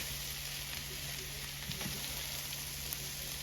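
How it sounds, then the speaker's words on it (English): Leftover Thanksgiving turkey hash simmers low in a pan, making a faint, even hiss of bubbling and light sizzling that holds steady throughout with a few soft pops. "And let that simmer down"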